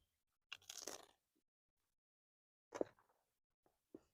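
A crispy bagel spread with smoked crawfish dip gets bitten up close, with a half-second crunchy chew, a long quiet pause, then a second sharp crunch and a faint final bite.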